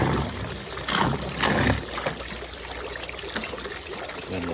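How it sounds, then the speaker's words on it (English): A pool vacuum runs while its debris bag is dropped into spa water, bringing a few splashy gurgling bursts early on and then a steady low trickle and hum. "Turn the machine on and drop it in so that the bag gets rid of all the air."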